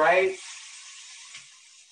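Zucchini that has been flavored sizzles in a hot pan, a soft, steady frying hiss that carries on after a brief burst of speech at the start.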